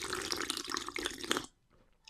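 A close, loud slurp of fluoride-free water, a wet rushing gulp lasting over a second before cutting off to near silence, then a brief faint sound at the end.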